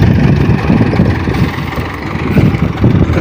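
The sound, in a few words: tractor with wheat thresher, engine running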